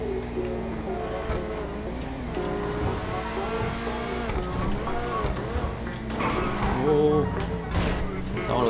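A Spyker C8 Aileron's V8 engine in GTA5 revs and pulls steadily, its tone rising and falling through gear changes with a brief squeal near the end, loud and close while someone talks over it.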